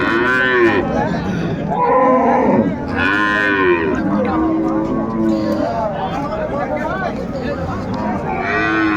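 Dairy cows and calves lowing repeatedly at a busy rural cattle market in Dinajpur, several loud, drawn-out moos overlapping close by amid a constant murmur of crowd voices.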